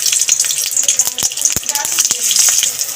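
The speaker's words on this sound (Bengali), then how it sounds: "ফোড়ন দিয়ে দিলাম কালো জিরে, কাঁচা লঙ্কা ভেঙে দিয়ে দিলাম" Black cumin seeds and broken green chillies sizzle in a small amount of hot mustard oil in a kadai, a steady near crackle with sharp spatters and stirring clicks throughout.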